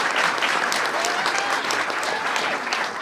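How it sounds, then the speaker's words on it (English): A large audience at a formal event gives a loud, sustained round of applause, a thick, continuous wash of clapping heard close and full throughout. "Give Deborah a big round of applause."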